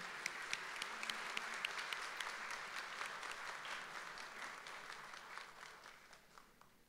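Sustained applause from an audience at a memorial event, many hands clapping steadily with no voices, gradually fading toward the end.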